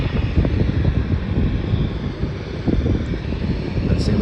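A Jetstar airplane departs on a Melbourne to Sydney flight, a steady low roar of engines with some wind buffeting, sustained and fairly loud throughout.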